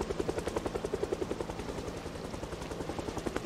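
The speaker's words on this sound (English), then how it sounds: "Helicopter's still running" A helicopter idles in a zombie survival video game, its rotor beating in a fast, steady pulse with a low engine drone beneath, constant and fairly close throughout.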